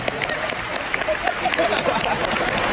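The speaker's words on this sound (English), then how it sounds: "Give them a round of applause." Audience at a hypnotist's stage show at Florida Tech claps for the volunteers, moderately loud scattered applause, mixed with crowd noise and a few voices.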